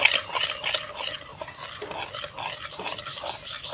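Flour being mixed into eggless cake batter in a bowl, a quick rhythmic scraping and tapping of a utensil against the bowl, close and moderately quiet, no voices.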